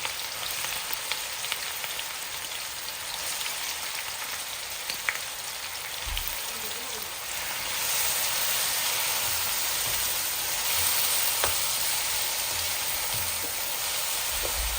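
Finely chopped onion frying in hot oil for a roast, a steady soft sizzle with scattered crackles running throughout, close and fairly loud, with no talking.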